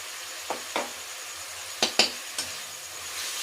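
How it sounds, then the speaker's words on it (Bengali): Ground cumin, coriander, turmeric and chili powder with salt being fried in a pan, a soft low sizzle broken by a few sharp scrapes and clinks of a spatula against the metal, close by and without voices. "মশলাটা ভালো করে কষিয়ে নেব।"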